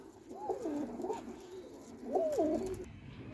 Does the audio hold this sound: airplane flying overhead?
no